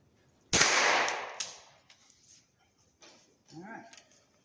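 A single sharp shot from a Keystone Cricket .22 caliber youth rifle at an outdoor range, close and loud with a lingering decay, followed by faint clicks and brief talk.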